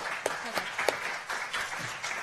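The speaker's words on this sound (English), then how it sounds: "A round of applause." Audience applause at a live literary reading, a steady wash of clapping from a seated crowd with a few sharper individual claps standing out.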